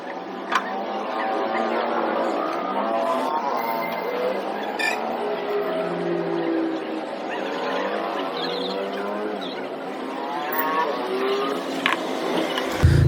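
A Yamaha MT15 motorcycle on a test ride just after a full service, its engine droning steadily close by with rising and falling pitch as it accelerates, and no talking.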